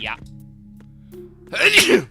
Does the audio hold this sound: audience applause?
no